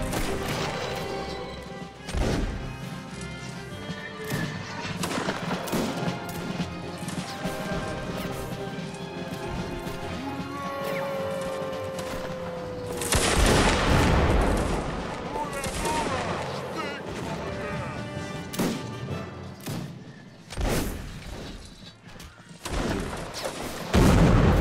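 Musket gunfire cracks repeatedly in a fort defence in Mount and Blade Warband Napoleonic Wars, sharp irregular shots and crashes, some near and loud, others farther off, over a steady battle din with occasional talk.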